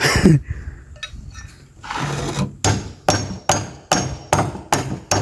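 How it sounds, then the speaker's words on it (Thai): Hammer blows ring out in a house, close and loud. A few scattered taps come first, followed by a steady run of evenly spaced strikes, with no talk over them. "เบิ่งขอตอกตัวนี้ก่อน"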